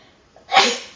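A single sharp sneeze bursts out after a brief inhale, close and fairly loud, fading quickly.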